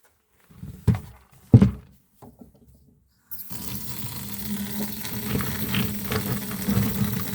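A sink tap is opened after a few knocks and clunks of handling tumbled Fee Dig garnets, then water runs steadily and fairly loud for several seconds, close by, with no talking.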